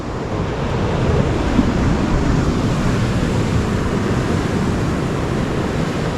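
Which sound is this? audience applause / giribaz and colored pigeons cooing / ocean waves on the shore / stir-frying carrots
ocean waves on the shore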